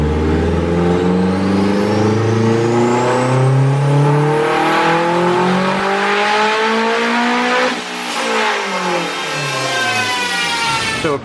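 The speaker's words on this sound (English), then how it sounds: "Now we're on the dyno, we're doing some preliminary boost runs" Turbocharged Honda K20 race car engine pulling hard on a dyno during a boost run on pump gas, a loud, sustained roar climbing steadily in pitch, dipping briefly, then winding up again to a high rev.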